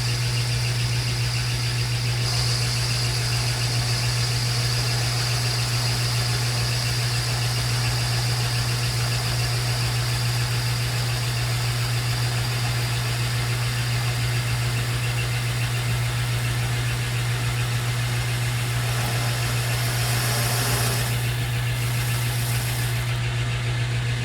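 Metal lathe turning down a bolt shank at a slightly higher speed, a steady, loud motor hum with constant mechanical drone and faint cutting noise, no talk.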